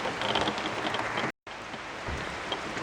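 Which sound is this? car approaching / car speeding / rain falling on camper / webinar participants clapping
rain falling on camper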